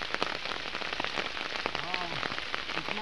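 Rain falls steadily on an areca nut farm, a soft dense patter of drops on leaves and ground with a faint voice briefly audible beneath it.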